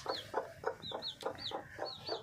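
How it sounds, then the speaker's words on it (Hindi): A hen about to lay an egg on a farm clucks repeatedly in a steady rhythm, about eight short calls, faint and fairly close, with a quiet background. "ये मुर्गी ना अंडा देने के लिए आई हुई है"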